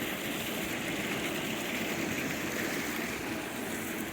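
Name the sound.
clean water flowing down the side of a clarifier tank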